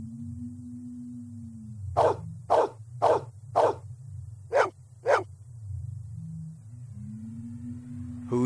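Six loud, evenly spaced dog barks in the Blade Runner PC video game, standing out over a steady low ambient hum, with a short pause before the last two.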